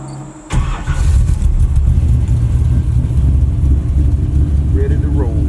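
A Chevy race car engine starts up and runs steadily, loud and close inside the car, with a dense low rumble that holds throughout.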